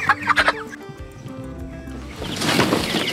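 A rooster on a farm gives a few close, quick clucks, then quieter fowl calls and rustling follow, with a louder broadband scuffle near the end.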